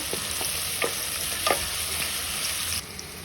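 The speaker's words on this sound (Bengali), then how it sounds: "তেলে পেঁয়াজগুলোকে একটু নরম হয়ে আসা পর্যন্ত অপেক্ষা করব" Onions frying in mustard oil give a steady close sizzle with a few sharp crackles and stirring scrapes, then drop to a quieter hiss near the end.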